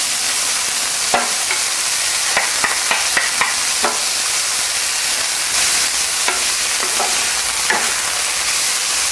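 Beet greens sizzle and fry in a hot pan with a constant crackling hiss, broken by scattered scraping clatters as they are tossed and stirred close by.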